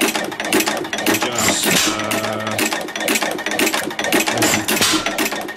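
An old stationary engine with an adjustable throttle chugs loudly and close, its rapid mechanical firing beats and clatter running steadily throughout with no voices.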